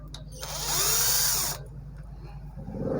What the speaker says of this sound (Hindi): इनको हम ड्रिल के साथ या पेचकस की मदद से, आपके पास जो भी चीज़ हो आप आसानी से उसको ओपन कर सकते हैं।